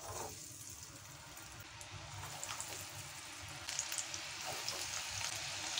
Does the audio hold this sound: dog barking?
no